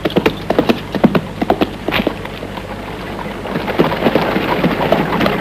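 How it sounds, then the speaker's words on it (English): Horses' hooves clop along a trail in a 1967 western. Rapid, rhythmic hoofbeats sound fairly close, denser at first, then blur into a rougher trotting patter over wind-like background noise. "Get those horses of yours moving, Tom."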